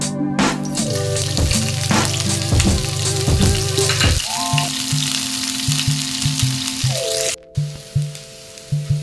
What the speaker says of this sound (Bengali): তেলটা গরম হয়ে গেলে এখানে পরিমাণ মতো পেঁয়াজ কুচি এবং রসুন কুচি দিয়ে দিচ্ছি